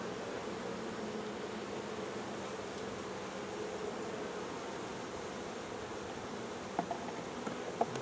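Honeybees on a hive foundation frame in cold weather give a soft, steady, diffuse hum that lasts throughout, faint and even, with a couple of small knocks near the end.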